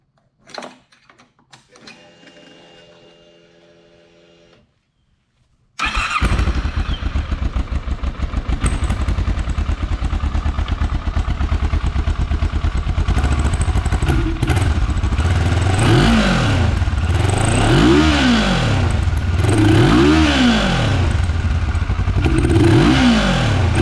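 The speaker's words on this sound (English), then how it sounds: "might as well give you a stock exhaust sound" A cheap café-style motorcycle on its stock exhaust is started after some quiet clatter, then idles loud and steady up close, with several rising-and-falling revs blipped toward the end.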